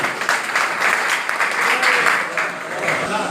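An audience at a cheque-presentation ceremony for puja committees claps in a dense, continuous burst of applause, with a voice faintly heard underneath.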